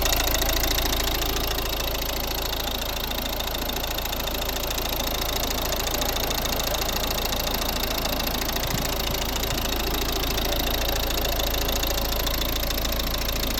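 A 2012 Volvo V50 1.6 D2 diesel engine idles steadily and close, a continuous rough rumble with faint knocking, with no voices over it.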